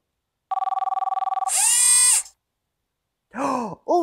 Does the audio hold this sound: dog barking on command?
no